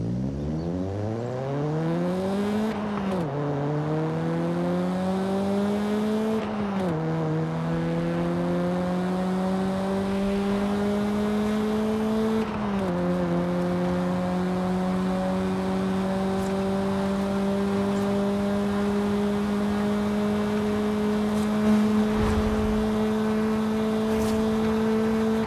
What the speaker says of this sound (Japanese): ターボエンジン2リッターターボですね。 直列4気筒のエンジン音を聞いてみましょ